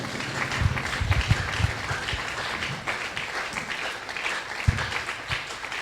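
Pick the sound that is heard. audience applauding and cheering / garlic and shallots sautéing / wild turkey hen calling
audience applauding and cheering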